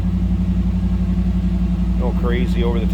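A 1992 Chevrolet Camaro RS engine idles with a steady low rumble close by, heard from the rear without an aftermarket exhaust, and near the end a person starts talking over it.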